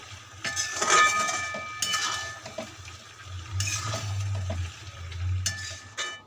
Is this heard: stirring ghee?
yes